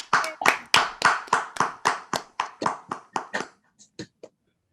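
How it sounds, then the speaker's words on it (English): A single person claps about a dozen times at a steady rhythm during an online session, the claps close and clear, slowing and fading to a last few before stopping. "giving a well-deserved round of applause"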